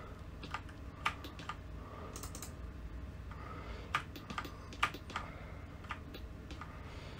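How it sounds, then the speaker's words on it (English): Computer keyboard keys are pressed while working in Blender 3D software, a quiet, irregular scatter of single clicks and short bursts of typing with pauses between, close up and without speech. "Press G and then Z on the keyboard to bring it up."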